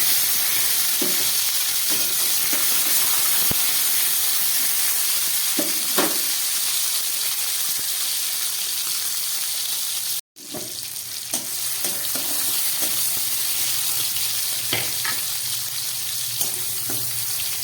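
Tomato added to hot oil with whole garam masala spices, used earlier for frying oyster mushrooms, gives a steady close sizzle with scattered crackles and a brief dropout midway, no voices.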